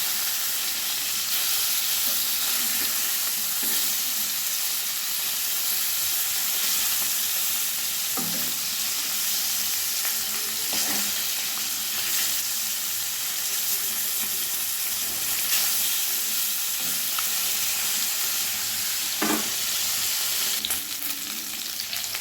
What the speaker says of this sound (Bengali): এই মাছগুলো খুব মুচমুচে করে ভাজবো না, মোটামুটি সোনালি রং এলেই আমি মাছগুলো তুলে নেব